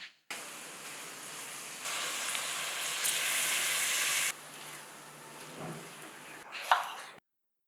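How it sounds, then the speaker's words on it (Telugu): Ginger garlic paste frying in hot oil on a low flame while cooking brinjal with dried fish, a steady close sizzle and hiss that swells louder midway, then eases, with a brief stir or clatter near the end. "అల్లం వెల్లుల్లి పేస్ట్ సిమ్లో మంచిగా వేయించుకోవాలి"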